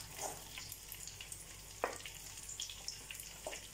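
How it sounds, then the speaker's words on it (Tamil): Vadagam frying in a pan of oil for a village-style Manchatti fish curry, a soft steady sizzle with scattered crackles and pops, fairly quiet and without any voices. "தீயாத அளவுக்கு நல்லா இதை வறுத்துக்கணும்."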